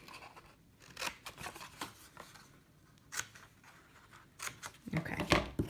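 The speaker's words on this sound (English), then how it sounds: "you will also need to cut just up to the score line on all 4 of these little scores" Scissors snipping short cuts into scored paper for a pinch heart treat box, a series of close, crisp snips at uneven intervals with a rustle of handled paper near the end.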